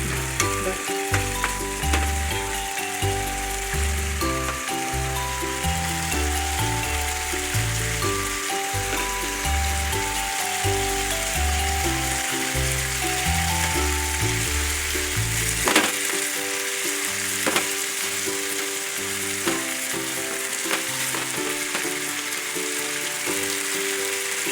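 Chicken liver fries in a hot pan with a loud, continuous sizzle and crackle that lasts throughout, broken by occasional clattering stirs and spatula knocks.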